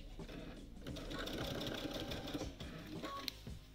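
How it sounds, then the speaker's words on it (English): A sewing machine stitches binding onto a quilt, starting at the top edge, with a steady close whirring run that carries on throughout and slows slightly near the end. "So start sewing exactly from the top edge of the quilt."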